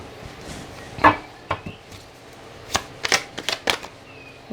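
A tarot deck is shuffled and cards are drawn, giving scattered crisp card slaps and flicks between quiet pauses, close and clear with no talking.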